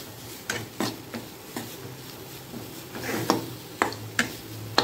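Sweet potato mash with masala being mixed in a pan, a spoon or spatula knocking and scraping against the metal in irregular taps over a low steady hum, with no voices.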